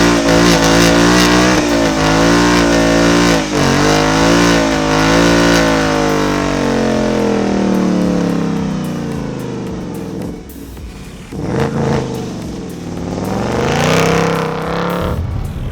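A 2018 Ford Mustang GT Premium with Performance Pack 1 roars through a line-lock burnout, its engine revving hard and holding high while the rear wheels spin, then dropping and surging again, loud and close.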